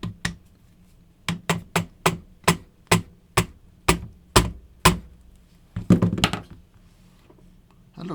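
A hammer taps about a dozen times in a steady rhythm, sharp and close, followed by a brief cluster of quicker knocks, while a red dot scope mount is fitted to a Mauser Kar98k rifle.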